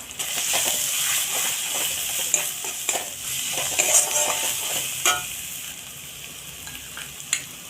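Crab curry spice paste with turmeric and chili powder fries and is stirred in a pan, a steady loud sizzle with occasional scraping clicks of the spatula.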